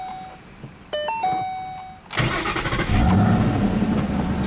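A few electronic chimes sound, then a 2013 Ford Mustang Boss 302 engine cranks and roars to life, settling into a loud, rumbling idle nearby.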